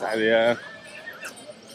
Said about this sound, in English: it's full of horses here. So many horses.